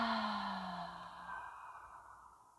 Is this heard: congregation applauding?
no